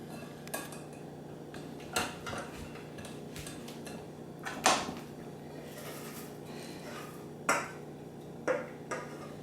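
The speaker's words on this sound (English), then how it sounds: "now it's time to strain them into a pot or a container" Cooked krupnik ingredients strained into a pot, giving scattered metallic clinks and knocks of utensils against cookware over a steady low hum, with a few louder taps spaced a second or two apart.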